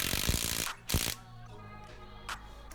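A ratchet tightens 14mm bolts on a car transmission during a six-speed swap. It gives a couple of quick clicking bursts and then goes mostly quiet with one faint later click, close by and with no speech.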